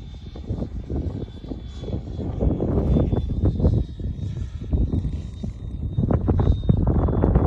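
An Avanti S 80mm model jet comes in to land without flaps, its engine a steady roaring whine close by, mixed with rough wind buffeting on the microphone.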